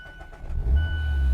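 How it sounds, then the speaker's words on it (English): Mazda MX-5 Miata starter cranking briefly before the engine catches and settles into a steady, loud low idle, heard up close with no talking. "it still has that typical starter noise when the Miata starts up"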